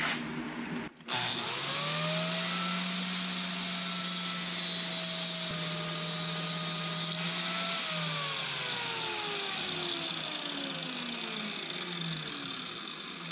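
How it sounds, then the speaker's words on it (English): A power grinder grinds down the end of a metal hardware-store part, its motor whining up and holding a steady loud pitch, then slowly dropping as it winds down. "We're going to grind this one now."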